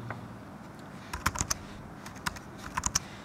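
Commands being typed on a computer keyboard, with a run of crisp, close keystrokes arriving in irregular quick bursts against a quiet background and no voices.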